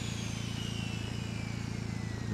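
A sawmill in the Ranch Simulator video game runs with a faint, steady mechanical drone and a low repetitive pulse, with no voices.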